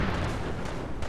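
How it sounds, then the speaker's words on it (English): Heavy booms and rumbling explosions fill the short stretch in Fallout 4, loud and continuous with dense low-end blasts and no voices over them. "hearing explosions, which is great"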